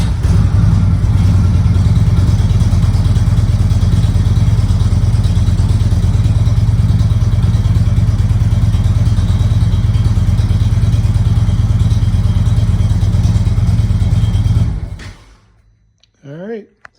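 A 2015 Indian Chieftain motorcycle engine runs loud and steady after a fuel pump replacement, a close continuous rumble that cuts off near the end, followed by a brief voice.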